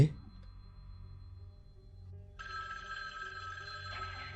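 In a Halloween horror video game, a telephone bell rings, beginning about midway after a quiet stretch with low background hum, and continues ringing steadily to the end.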